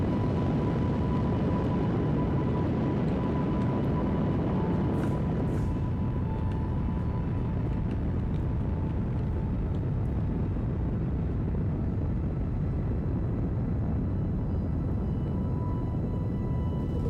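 A rocket engine in the video game Kerbal Space Program 2 gives a steady, loud, broad roar of thrust that holds unbroken throughout with no talking over it.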